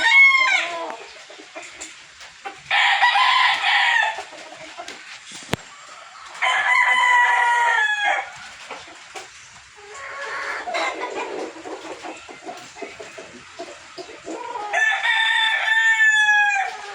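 Kelso roosters crow repeatedly, several long rising calls spaced across the stretch, with softer clucking and rustling between them and a sharp knock near the middle.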